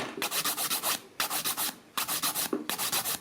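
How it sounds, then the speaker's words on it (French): Nail file rasping over gel nails in a diamond-filing pattern, quick close strokes in short groups of four or five with brief pauses between, no talking. "je fais ce qu'on appelle le limage diamant"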